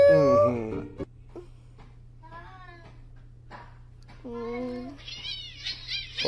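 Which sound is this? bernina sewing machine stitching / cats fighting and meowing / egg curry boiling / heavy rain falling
cats fighting and meowing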